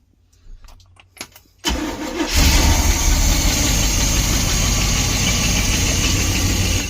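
A 1972 Barth motorhome engine cranks over after the carburetor is pumped, a few quiet clicks and turns giving way to a sudden catch and a loud, steady running roar that holds to the end.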